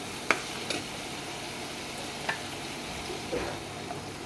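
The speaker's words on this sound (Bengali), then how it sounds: "টমেটো সস দিয়ে ভালো করে আমি নেড়ে চেড়ে নেবো সব উপকরণগুলো দিয়ে" A spoon stirs Chinese-style pasta with tomato sauce in a pan: a few sparse scrapes and light clinks over a faint, quiet sizzle.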